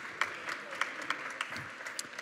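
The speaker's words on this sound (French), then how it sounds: "sous les applaudissements" Applause from an audience at a startup contest final, as a startup founder comes on stage; steady clapping with sharper individual claps standing out, moderately distant and fairly quiet.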